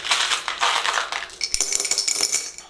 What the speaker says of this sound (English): I'm going to be mixing blue and pink baubles.